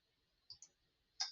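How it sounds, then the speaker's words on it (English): A computer mouse is clicked to save a spreadsheet file: two quick soft clicks, then a third, sharper click a moment later, close and quiet in an otherwise silent room. "I will click save on my copy."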